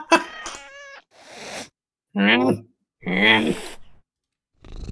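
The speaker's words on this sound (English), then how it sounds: "Now there's a cat downstairs." Cat in the heist game Heist Kitty gives several clear, close meows and a sighing breath, separated by short silences, with no talking over it.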